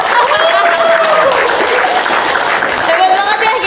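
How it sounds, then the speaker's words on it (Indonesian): An Indonesian talk-show audience claps and cheers to welcome guest stars, a loud, continuous burst of applause with voices calling out through it. "Tepuk tangan dulu buat bintang tamu kita."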